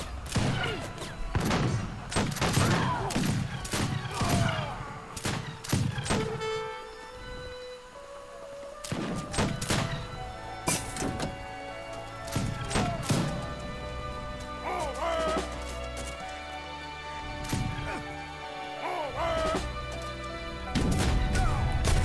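Artillery fire in an Age of Empires 3 Wars of Liberty match, with scattered heavy booms and crashing impacts arriving in clusters, with quieter gaps between volleys, set against game music.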